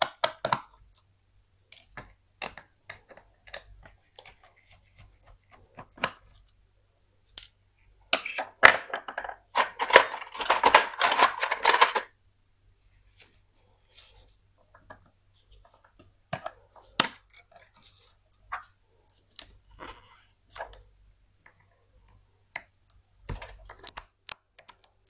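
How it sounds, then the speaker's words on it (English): Small screws are worked loose to open an old Lenovo tablet, a series of faint, close clicks, ticks and scrapes scattered with pauses, busiest in a dense cluster midway. "Unscrewing the screws."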